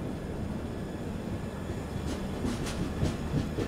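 Garib Rath express train snaking through curves from two consecutive loops onto the main line, a steady close rumble of wheels with clacking joint beats and brief sharp squeal-like bursts in the last couple of seconds.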